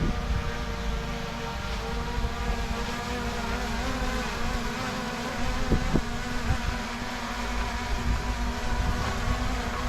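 A DJI Mini 5 Pro drone hovers at night, its propellers giving a steady, insect-like buzzing whine that holds level throughout, with no voices over it.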